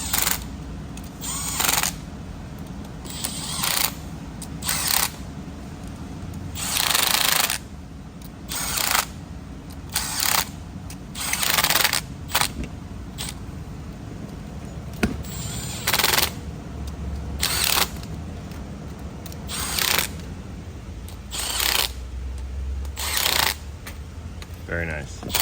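Valve cover fasteners on a Duramax LBZ diesel engine being spun down with a power tool and torqued, loud repeated bursts of whirring and clicking with pauses between, alone.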